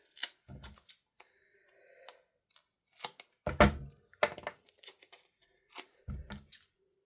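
Paper being snipped with scissors for card making: scattered crisp cuts and rustles, close and quiet, in irregular bursts separated by near silence.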